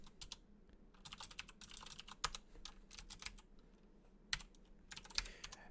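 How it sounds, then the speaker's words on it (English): Close, quiet typing on a computer keyboard, with rapid irregular clicks in clusters and brief pauses, plus a few heavier keystrokes standing out. "I like the sound of my keyboard"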